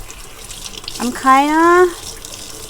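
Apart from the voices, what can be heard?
rinsing soil off a new plant under running tap water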